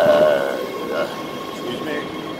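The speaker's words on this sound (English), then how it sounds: "The last train in North Hollywood." A subway train rumbles steadily through a North Hollywood station, with a faint tonal squeal at first and a broad, continuous roar.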